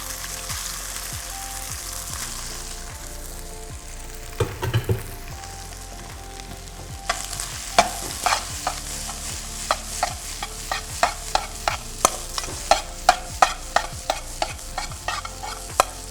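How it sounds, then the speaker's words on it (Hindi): Boiled rice tossed with chili paneer over high heat sizzles in a pan while a spatula clacks and scrapes in a quickening, regular rhythm, close and fairly loud. "जल्दी से सौते कर लेंगे इसको"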